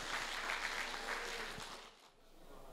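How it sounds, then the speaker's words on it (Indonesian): Audience applause at a campus event on young entrepreneurship in the digital era, a steady wash of clapping for about two seconds that fades toward the end. "Tepuk tangan dong"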